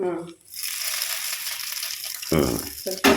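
Mustard seeds and curry leaves sizzle in a little oil in a pot on a wood-fired stove, a steady bright crackle held for a few seconds, with voices breaking in near the end.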